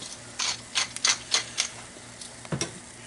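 A salt and pepper grinder twisted over cooked tomatoes, giving several short, close, dry ratcheting grinds in quick succession.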